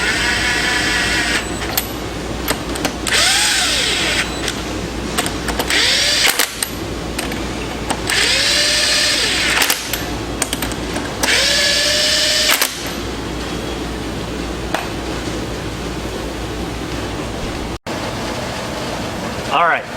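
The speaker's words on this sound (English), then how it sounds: "I'm also not romping down with the impact gun" Impact gun tightening lug nuts during a vehicle service, several loud bursts of rapid hammering whir of a few seconds each with short pauses between, a person talking over and between them.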